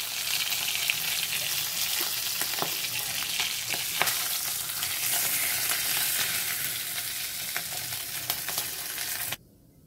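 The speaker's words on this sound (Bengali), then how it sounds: "মাছের মাথাগুলো লাল লাল করে ভেজে নিয়েছি, এবার তুলে নেব।" Fish heads fry in hot oil in a wok, a steady, dense sizzle that holds without pause and then cuts off abruptly at the very end, with no voices.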